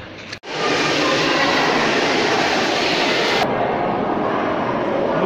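Water bubbles and churns vigorously in an outdoor thermal spring pool at about 57 degrees, making a loud, continuous broadband rush that starts abruptly after a brief thump and runs steadily throughout.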